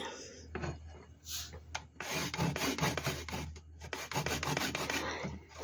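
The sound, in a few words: grating ginger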